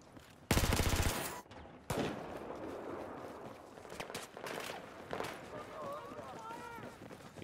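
Machine gun fire in the first-person shooter Battlefield 4, a loud rapid burst near the start followed by shorter sporadic bursts and other game sounds, with someone talking over it.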